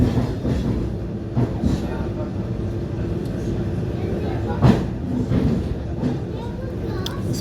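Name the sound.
clickety-clack of train wheels, Syzran–Samara train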